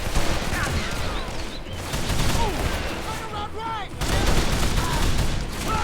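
Sustained AK rifle fire in the shooter game Call of Juarez: The Cartel, rapid overlapping bursts with ricochet whines throughout, loud and close, with shouting voices mixed in.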